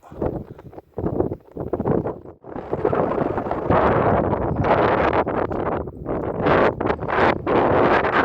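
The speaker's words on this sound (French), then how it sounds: "J'ai un magnifique vent qui me caresse le visage" Strong wind buffets the microphone on a mountain hike up Mont Caume, rising into loud, sustained roaring gusts that pause briefly and then surge again, with no talk.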